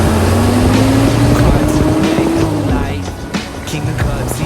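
A chopped GQ car fitted with a crate motor pulls away on a quick test drive, its engine droning loud and steady with rising gear notes and a brief tire sound.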